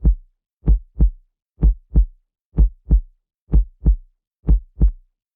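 A synthesized heartbeat made for a minimal techno bassline: five clean lub-dub pairs of deep, punchy thumps at a steady, slow pulse, with dead silence between beats and no voices.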